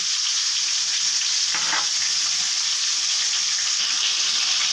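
Steady, loud sizzling of pointed gourd frying in oil, with a brief scrape of stirring partway through; no voices.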